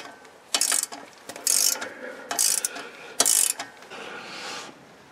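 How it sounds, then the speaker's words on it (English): A ratchet retightens a small 10 mm bolt on the brake caliper of a 2012 Porsche 911 Carrera (997.2), giving several short, close bursts of crisp clicking separated by brief pauses. "Don't forget to retighten the small 10 mm bolt."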